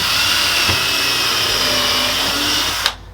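A power drill bores a pilot hole in wood while an allotment shed is being upgraded, giving a close, steady whirring whine for nearly three seconds before cutting off abruptly.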